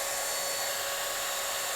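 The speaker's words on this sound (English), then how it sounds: "the force of this air dryer is actually pretty strong" A hair dryer blows a steady, loud rush of air that holds constant and close throughout, with no talking.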